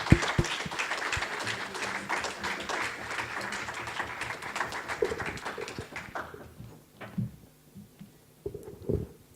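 A church congregation applauds after a sermon, with dense, steady clapping for about six seconds that then fades to a few scattered claps and faint murmurs.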